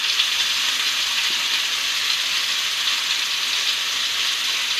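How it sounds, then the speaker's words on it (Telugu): Mushroom tikka pieces fry in oil as they are turned, giving a steady, close, even sizzle throughout with no voices. "ఇలా ఆయిల్ అప్లై చేసుకుంటూ మనం తిప్పుతూ వీటిని ఫ్రై చేసుకోవాలి"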